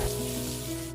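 Finely chopped garlic and ginger sizzle in hot oil in a pan, a steady close crackle that lasts briefly without a break.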